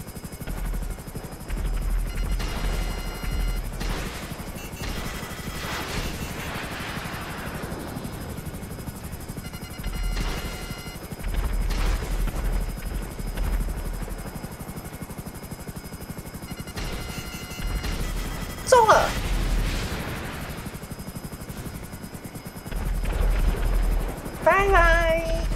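An FH-1 Hunter attack helicopter in the game GTA V Online, its rotor drone running steadily through a dogfight with low thumping bursts, distant weapon hits and a few sharp effects.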